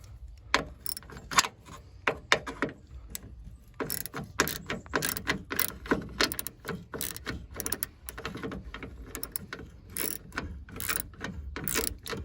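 Ratcheting wrench clicks in quick uneven bursts as a 10 mm seatbelt bolt on a 1990-1997 Mazda MX-5 Miata is loosened, with metallic rattles and tool knocks close up and no talking.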